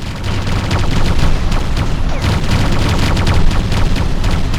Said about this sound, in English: Expect incoming artillery fire.